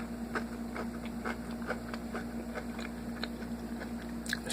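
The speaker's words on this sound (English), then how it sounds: "Still pretty darn crunchy." Crunchy bites into air-fried Beyond Chicken plant-based breaded tenders, a series of short close crisp crunches repeating at a steady chewing rhythm over a low steady hum.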